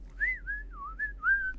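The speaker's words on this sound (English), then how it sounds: "whistling off in the mic." A person whistles a short wavering tune heard over a radio comms microphone, a single thin clear tone sliding up and down for about a second and a half, alone against a low steady hum.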